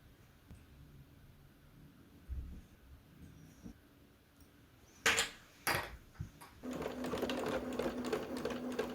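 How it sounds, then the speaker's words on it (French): A sewing machine runs a straight stitch along a tote bag seam, starting after a few handling clicks and short bursts, then whirring steadily and close for the last couple of seconds. "on vient pincer le rectangle et faire une couture au point droit"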